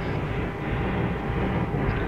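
A helicopter flies in the military video game ArmA 3, a continuous dense rotor and engine drone holding steady and fairly loud for the whole short stretch with no talk.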